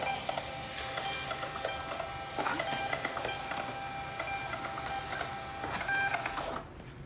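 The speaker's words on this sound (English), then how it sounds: "I'm gonna print some labels so I can show you guys how fast and easy that it works" A thermal label printer runs out a batch of labels, giving a steady, fast mechanical whirring with faint rhythmic ticking that continues for several seconds before cutting off abruptly.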